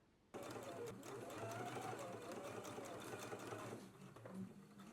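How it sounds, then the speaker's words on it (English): A sewing machine runs steadily, stitching close to the folded edge of a sleeve placket. Its fast mechanical whir starts abruptly, holds even and close throughout, and eases slightly near the end. "go ahead and stitch really close to this edge of this fold here"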